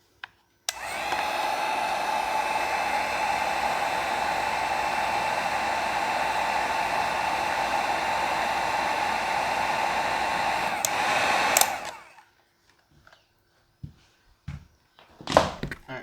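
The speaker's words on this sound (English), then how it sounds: "Just take a heat gun." A heat gun blows hot air onto a Safariland 6360 RDS holster, a loud, steady close whooshing roar lasting about eleven seconds before cutting off, followed by a few scattered clunks and handling thumps.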